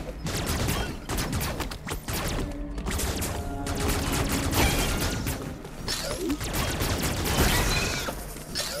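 Rapid bursts of gunfire and blasts in the video game Metroid Dread crackle densely, with whooshing effects and mechanical clanks mixed in, loud and busy throughout.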